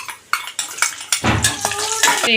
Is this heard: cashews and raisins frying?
yes